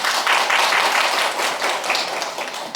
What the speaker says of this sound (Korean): 화하정 교수님 박수로 맞아주시기 바랍니다